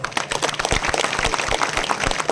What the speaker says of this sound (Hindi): जिसके दोनों हाथ है वो ताली बजा सकते हैं जोर से।